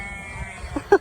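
A single short sheep bleat rings out at the end as sheepdogs herd a flock in the Brecon Beacons of Wales, after quiet outdoor ambience.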